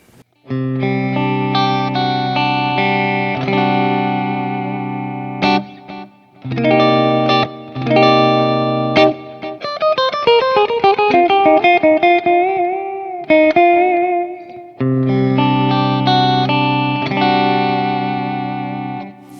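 Electric guitar played with both pickups in split-coil mode, sustained chords and melodic lines ringing with effects and reverb, loud and clean with brief pauses between phrases, no talking.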